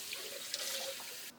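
A sink tap runs hot water for washing kitchen equipment, a close, steady splashing hiss with small drips and gurgles that cuts off abruptly near the end.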